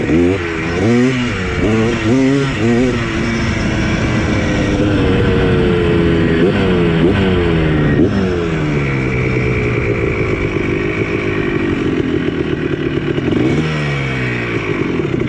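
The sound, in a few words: ATC250R three-wheeler engine running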